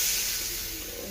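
Water poured into a hot pan of eggplant curry hisses loudly and steadily, a bright sizzling rush that fades only slightly.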